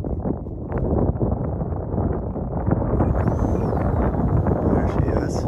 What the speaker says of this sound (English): I can feel the wind.